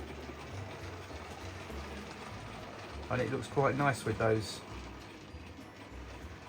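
A model Stratford B12 locomotive pulling suburban coaches runs along the layout, its steady, low mechanical rumble continuing under someone talking.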